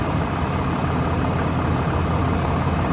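A 5th gen Cummins diesel pickup fitted with a Banks Monster Ram intake idles steadily while warming up, a close, even low rumble with no talk over it.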